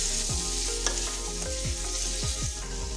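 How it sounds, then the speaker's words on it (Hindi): Spices are stirred into amla, Indian gooseberries, in a pan for amla launji, a continuous sizzle with repeated scraping strokes of a spoon at a steady, unhurried pace, close and alone. "अब मैं सारे मसाले को इस तरह से आंवले में मिक्स कर दे रही हूँ।"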